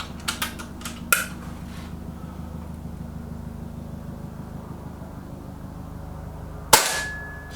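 A Reximex Accura air rifle fires one sharp, loud crack during a shooting competition against a Kral Puncher Maxi. A steady low hum runs underneath, with a few small clicks beforehand.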